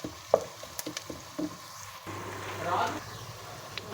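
Onions fry with whole garam masala in a pan for chicken stew, a faint, soft sizzle broken by a few stirring clinks and scrapes, with a voice present.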